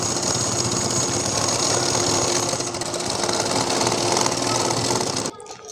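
A sewing machine runs a continuous, steady, fast stitching whir along a folded trouser hem, close and even, then stops abruptly near the end.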